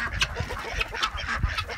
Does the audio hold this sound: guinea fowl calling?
yes